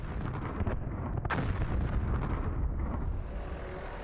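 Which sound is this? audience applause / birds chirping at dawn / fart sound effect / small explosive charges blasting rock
small explosive charges blasting rock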